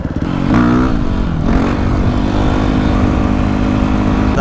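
A motorcycle engine roars loud and close, revving up sharply as the rider pops a wheelie, then holding a steady, rough drone with wind rush throughout; no talking.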